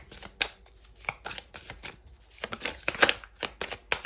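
Tarot cards are shuffled and drawn by hand, giving a quiet series of short, crisp riffling bursts and soft flicks close by, with small pauses between them.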